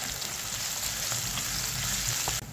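Bay leaf, cinnamon, clove, cardamom and pepper frying in hot oil make a dense, steady crackling sizzle close by, with a few faint taps of stirring.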